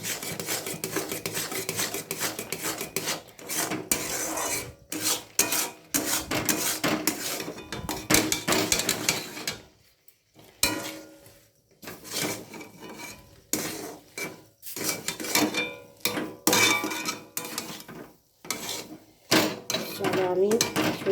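Semolina cooking in milk in a pot, stirred with a utensil: repeated harsh rasping scrapes in uneven bursts with short pauses, close and fairly loud, without speech.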